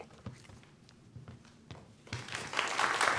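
An audience applauds the dean at a retirement symposium. A few scattered claps start it, then clapping builds into fuller, louder applause toward the end, heard from a moderate distance.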